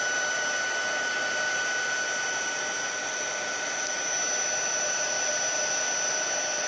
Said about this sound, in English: just going to quickly warm up my heat gun and then blow this dry